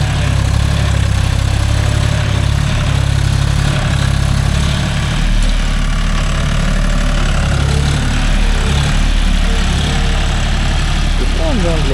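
A John Deere 5045D 4WD tractor pulls a nine-tine cultivator through a coconut grove, its diesel engine chugging steadily and loudly up close without a break.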